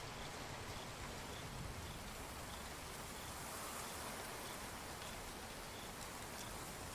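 Rain falls steadily on the ground at Xakanaxa in Africa's Okavango wilds, a soft, even hiss of countless drops that holds at low volume for the whole span with no voices.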